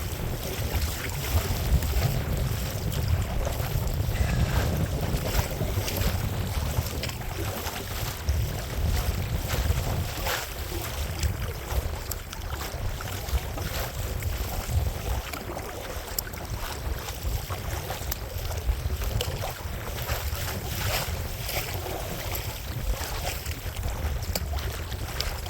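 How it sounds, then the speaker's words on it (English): A constant headwind of around 20 mph buffets a kayak on open water near the Little Wicomico at Smith Point, Virginia, giving a continuous rough, gusty rush throughout. "A little bit of the wind warmed up. Kind of a constant 20 mile an hour in the face"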